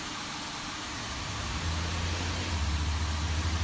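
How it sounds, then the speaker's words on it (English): Airbus A350 jet engine in Microsoft Flight Simulator 2024 spooling up, a steady broadband roar that swells and settles into a low droning hum, loud and continuous with no talking. "Here comes our second engine."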